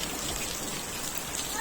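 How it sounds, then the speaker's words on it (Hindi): Heavy rain pours down in a dense, unbroken hiss, loud and steady with no gaps. "एकदम झनझनाट वाली तेज बारिश है।"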